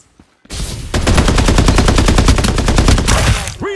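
Sustained rapid automatic gunfire from a Farlight 84 battle-royale match, loud and close, a steady stream of shots lasting about three seconds before cutting off.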